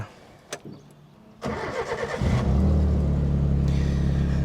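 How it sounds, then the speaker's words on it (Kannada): An old Hindustan Motors Ambassador car's engine cranks after a soft click, catches and settles into a loud, steady idle close by. "ಈ ಗಾಡಿಗಳನ್ನ ಸ್ಟಾರ್ಟ್ ಮಾಡಿ ಆ ಸೌಂಡ್ನ ಕೇಳೋದು"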